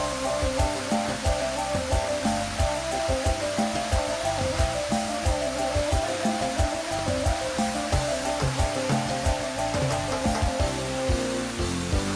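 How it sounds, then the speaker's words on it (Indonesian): Steady, dense rushing of a waterfall in Harau Valley, West Sumatra, loud and constant throughout with no voices. "Di Lembah Harau, kita akan menjumpai beberapa air terjun"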